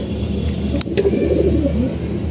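Pigeons in a loft coo softly in low, rolling murmurs that carry steadily through the whole stretch, with a brief rustle or flap partway through and no one speaking.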